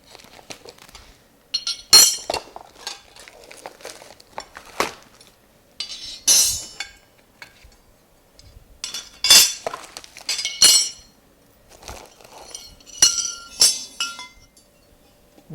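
Thick Moto Billet aluminum rack parts for a Honda Grom clink and clatter as they are handled, with bright metallic knocks arriving in irregular bursts close by, separated by short quiet gaps and with no speech.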